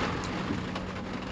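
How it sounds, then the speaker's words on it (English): Heavy rain pours down in a dense continuous hiss, drumming steadily on a surface with no voices. "it just rained about a half an inch in about 10 minutes"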